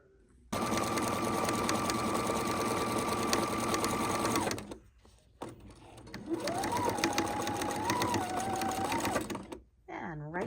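A sewing machine stitches a tote bag seam with a close, steady mechanical hum in two long runs separated by a short pause, with a voice speaking over it.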